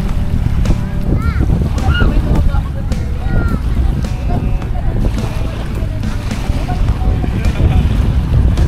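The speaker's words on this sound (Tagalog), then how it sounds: "Lakas ng hangin ngayon dito mga bayan." Strong wind buffets the microphone in heavy rumbling gusts at Dolomite Beach on Manila Bay, with boat and water noise and voices talking underneath.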